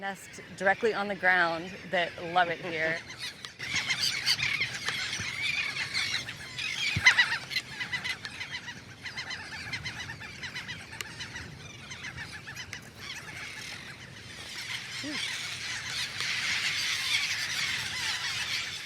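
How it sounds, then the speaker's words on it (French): Pelicans at a nesting colony in Louisiana, a chorus of squealing, honking calls heard at a moderate distance, strongest at the start and later fading into a background wash while a narrator talks over it. "les pélicans se sentent bien et ont pris leurs aises"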